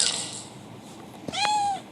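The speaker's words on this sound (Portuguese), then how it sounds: "O gatinho tá aqui." A kitten gives a single short, high meow near the end, rising over faint room background.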